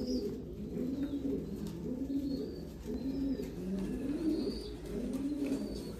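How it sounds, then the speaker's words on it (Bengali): A female pigeon of the Royal Teddy breed coos nearby in a steady repeating rhythm, about one soft low coo per second, with no one talking. "এটা হচ্ছে মাদি পায়রা।"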